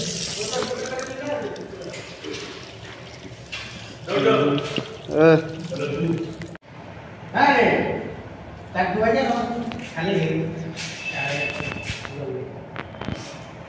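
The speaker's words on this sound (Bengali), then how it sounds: "তাই সবার প্রথমে আমি হাতটাকে ধুয়ে নিই।" Running tap water as hands are washed before a snack of puffed rice, a steady splash with louder bursts over continuous background talk.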